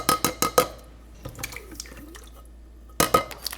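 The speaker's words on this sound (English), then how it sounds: "We want to add in 28 ounces of diced tomatoes with their juice." Canned diced tomatoes with their juice tipped into a slow cooker for pasta fagioli: a few close metallic clinks of the can, then soft wet splashes and drips, and a final burst of clinks, with no talking.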